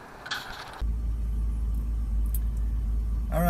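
Truck engine rumbling steadily from inside the cab, a deep continuous drone that starts abruptly after a brief quieter moment and holds at a constant level.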